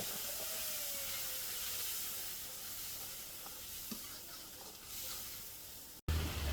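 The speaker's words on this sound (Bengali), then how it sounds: "লাল মরিচ ফাঁকি জিরা ফাঁকি এখন ভালো করে নেড়ে চেড়ে কষিয়ে নেব" Red chilli and cumin sizzle steadily in hot oil while being stirred, a bright constant hiss with faint scrapes, ending in a sudden louder clunk.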